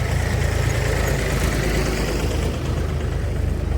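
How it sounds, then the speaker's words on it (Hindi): A tractor rumbles steadily past on a road in Chhattisgarh, India, a loud continuous low engine drone with a faint throb and no talking. "रुकिए, ट्रैक्टर जा रहा है तो उसको थोड़ा सा निकलने देते हैं।"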